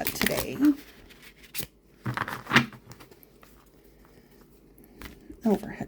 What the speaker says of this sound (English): I'm going to embarrass myself with my riffle shuffle